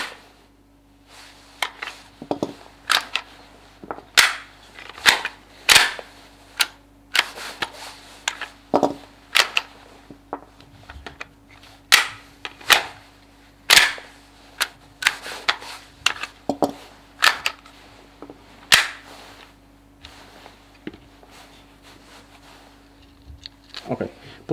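Someone strikes the rear of a jammed pistol's slide on a shooting range. The result is a series of sharp, loud metallic knocks and clacks spread unevenly across the clip, with a faint steady hum underneath.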